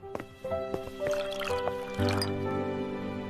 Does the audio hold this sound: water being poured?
yes